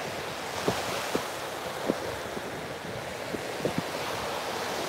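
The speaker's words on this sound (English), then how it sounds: "Can you hear the waves" Ocean surf washes steadily against the shore under constant wind rushing across the microphone, with occasional soft thumps.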